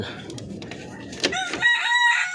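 Darag native chickens at a Philippine backyard farm, a rooster's crow rising clearly near the end after low clucking, with someone speaking beneath.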